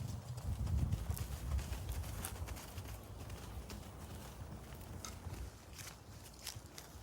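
Horse hooves clip-clop at a steady walking-to-trotting rhythm during a riding lesson, loud and close, with low rumbling underneath and faint background sounds.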